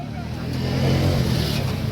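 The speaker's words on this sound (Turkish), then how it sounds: "Bu arabaları kiralıyoruz." A shared rental car drives past on a street in Colombia, its engine rumbling loud and close for a couple of seconds while someone talks over it.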